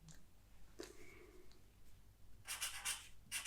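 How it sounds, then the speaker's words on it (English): Scratchy strokes of writing on a board during a classroom-style subtraction lesson: a short stroke near the start, then a denser, louder run of scribbling toward the end, with no talking. "I'm going to write this now."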